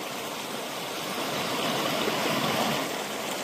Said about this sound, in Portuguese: E esse riacho fica dentro da terra, não é na divisa, é todo seu.